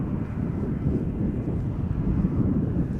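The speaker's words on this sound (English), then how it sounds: "Cathay Pacific Flight 807 will be taken off to Hong Kong" A Cathay Pacific Airbus A350-1000 taking off overhead from Chicago O'Hare, a dull, low engine rumble holding fairly steady with some wind buffeting the microphone.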